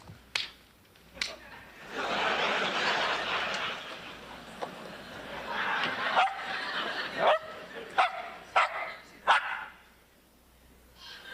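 A dog barks repeatedly on a comedy television show set in an exercise centre, a run of short sharp barks and yips spaced out near the end, following a stretch of noisy crowd-like sound and talk.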